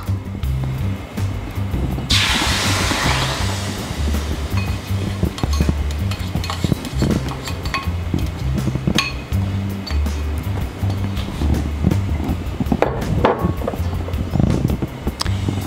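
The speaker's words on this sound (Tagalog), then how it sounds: "magpapainit tayo ng kawali at ilalagay natin yung panucha, yung coconut milk," Panucha and coconut milk heated in a pan for latik sauce: steady scraping and stirring clinks against the pan over a constant sizzling hiss, with a louder rush of sizzle as liquid goes in.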